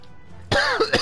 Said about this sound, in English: why do I have a fucking cough this morning?